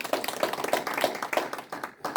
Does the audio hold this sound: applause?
yes